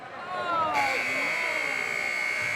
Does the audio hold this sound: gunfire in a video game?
no